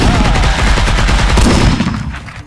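Rapid, loud, sustained gunfire in the VR shooter game X8: a dense automatic burst of overlapping shots with no pause across the whole stretch, close and dominant.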